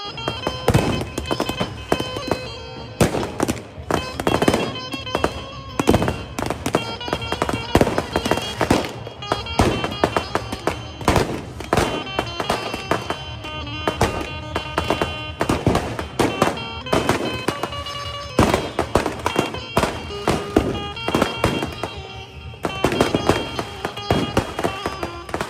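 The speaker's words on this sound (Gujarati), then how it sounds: "ગામના લોકો એ બહાર આવેલા ચોકમાં લાખોના તો ફટાકડા" Firecrackers burst in a village square during a festival, a dense, continuous barrage of loud sharp cracks and pops rattling on for the whole stretch with no talking.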